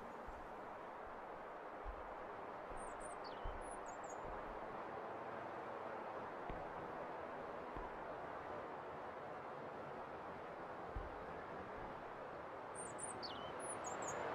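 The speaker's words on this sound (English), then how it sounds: "I feel like as long as I hear the sound of birds, things will be okay." Faint bird chirps from a video game, Welcome To Kowloon, repeat at intervals over a steady low ambient hum, with no one talking.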